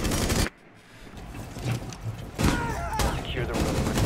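Gunfire in the tactical shooter game Rainbow Six Siege: a burst of shots after a brief drop, then sustained loud firing with metallic scrapes, with players' voices mixed in.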